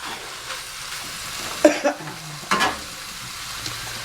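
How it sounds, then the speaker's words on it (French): Pork is put to brown in melted fat in a pan alongside bacon lardons, making a soft, steady frying hiss with two louder sizzling bursts as pieces are added, and no talking. "Donc là, j'ai fait fondre ma matière grasse. Donc là maintenant, je vais mettre ma viande à dorer."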